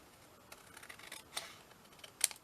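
A few quiet, sharp scissor snips cut blue paper for an origami pouch, spaced irregularly against a near-silent background.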